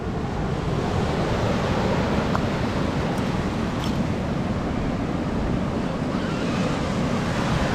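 Ocean surf rolls continuously on Diamond Beach in Iceland near a glacial lagoon, a dense, steady wash of breaking waves mixed with wind rumble on the microphone, with no voices.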